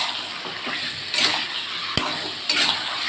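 Chicken curry with spices being stirred and sautéed in a pan, with scraping and clinking of a spoon against metal over a steady background hiss, a sharp tap near the middle and a couple of louder stirring bursts.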